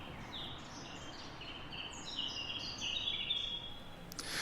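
Quiet birdsong during the COVID period: several small birds chirp and trill at moderate distance, with short high notes overlapping across a few seconds above a low, steady background hiss.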